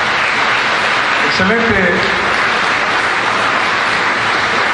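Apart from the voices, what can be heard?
applause for the worship band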